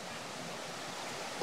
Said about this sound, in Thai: เสียงน้ำตกน้ำไหลลำธารห้วยแถวนี้